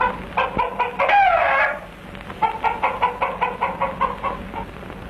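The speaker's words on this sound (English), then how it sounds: "The favorite Dayak sport is cockfighting. Here the boys are only letting them spar." Roosters spar at a Dayak cockfight in Borneo, giving a loud strangled crow followed by a rapid series of rhythmic clucks and squawks, close and clear with no talking.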